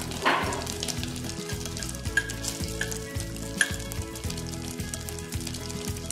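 Hot oil sizzles steadily in a pot for a Peruvian locro de zapallo, with occasional sharp pops and utensil taps over a low, continuous frying hiss; no one speaks.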